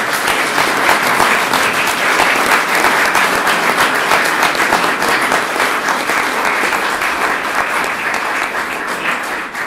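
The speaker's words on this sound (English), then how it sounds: "I want to give them a round of applause" A conference audience gives a sustained round of applause after a talk about a nuclear tipping point, dense steady clapping filling the hall, loud and even throughout before gradually tapering slightly.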